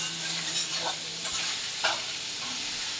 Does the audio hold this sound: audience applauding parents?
no